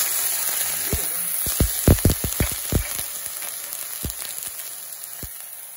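Chicken hitting hot oil in a pan, setting off a steady close sizzle broken by a flurry of sharp pops and crackles, then quieter spits as the frying settles.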